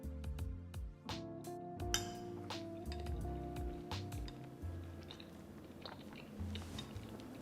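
Someone chews a bite of keto cheeseburger casserole topped with sauce, with close, soft wet munching and a few faint clinks of a utensil against a dish.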